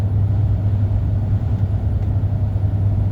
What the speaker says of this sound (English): The Scania R450s are cracking workhorses.